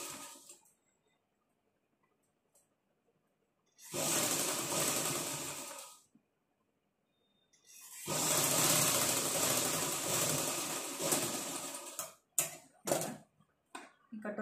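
A sewing machine stitches a blouse, running in two long bursts separated by a pause, then stopping and starting in short stutters, fairly close and with no talking.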